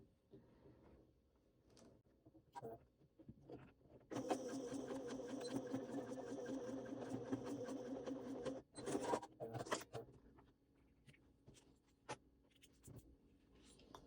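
A sewing machine runs a steady line of stitching near the hardware of a waist pack, a continuous close mechanical whir lasting several seconds, followed by a short burst and quiet handling sounds.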